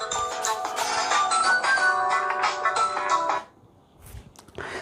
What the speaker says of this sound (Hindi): 1 मिनट फोन आ रहा है।